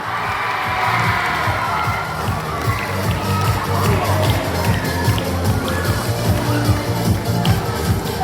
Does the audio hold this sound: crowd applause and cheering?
yes